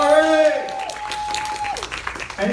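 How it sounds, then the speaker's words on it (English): Audience applause at a presentation in Tampa rises as a voice fades, scattered clapping continuing at moderate level with talk mixed in. "give Cory a hand of applause."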